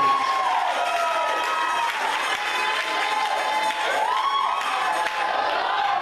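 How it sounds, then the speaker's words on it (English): Church congregation clapping and cheering in praise at a Monday worship service, loud and sustained for several seconds, with shouts and whoops riding over a steady wash of applause. "If you believe it, clap your hands and give God"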